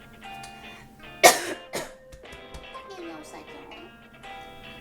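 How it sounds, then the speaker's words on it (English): A man has a coughing fit, with two harsh close coughs in quick succession followed by throat clearing and muttered speech around them. "I'm having a coughing fit for like my last 8 videos"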